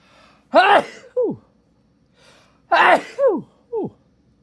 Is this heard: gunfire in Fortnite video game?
no